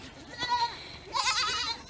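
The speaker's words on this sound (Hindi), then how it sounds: "रास्ते में जाते जाते क्यूट सी बकरियाँ मुझे मिल गई हैं।" Goats bleating on a mountain road in Chitral, two wavering calls in quick succession, fairly close and clear against faint outdoor background.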